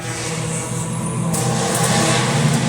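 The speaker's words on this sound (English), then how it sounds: "cars are rolling for first practice right now" Spec Miata race cars circle the track in first practice, their engines droning and revving loudly and continuously from a mix of near and more distant cars, with no talk.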